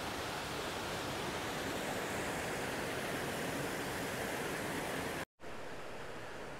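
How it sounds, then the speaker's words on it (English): Constant roaring rush of a waterfall on Upper Hurst Brook in the Peak District, dense and unbroken, with a brief cut to silence near the end before the roar resumes. "that cool waterfall there."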